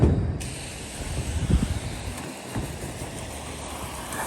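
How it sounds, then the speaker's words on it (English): A softwash sprayer applying cleaning solution to a roof, a steady outdoor hiss of spray with wind, continuous and fairly close with slight surges. "like that section there I've just sprayed"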